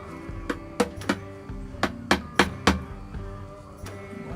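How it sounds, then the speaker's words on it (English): A sharp-ended scraper chips old gasket material off a GM 6.5 turbo diesel engine, giving about eight crisp, close scraping clicks at an uneven pace over a quiet background. "Use a scraper with a sharp end to get her started."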